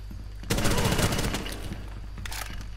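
Gunfire in the video game Rainbow Six Siege: a loud burst of shots starts abruptly and continues as dense, sustained firing, easing into quieter scattered shots, with some talk mixed in.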